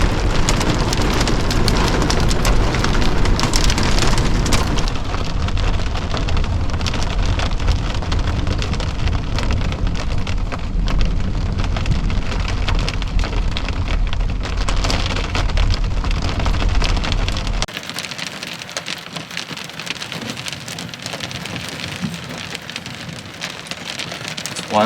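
Heavy rain pounding on a truck during a severe thunderstorm while camping, a loud dense roar of drops that drops abruptly to a softer steady patter partway through.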